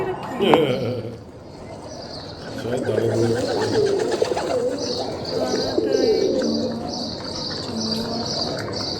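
Domestic pigeons coo repeatedly in soft, throaty rolls amid chirping birds, with people talking nearby, at a pigeon breeder's home.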